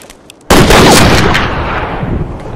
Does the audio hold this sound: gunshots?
yes